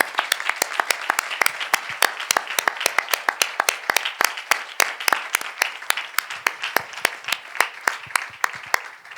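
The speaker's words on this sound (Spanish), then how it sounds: "Yo creo que se merece un aplauso." An audience at a film-world talk with Juan Torres-Molina applauds in a steady round of sharp, distinct claps, fairly close and moderately loud, continuing evenly throughout without talk.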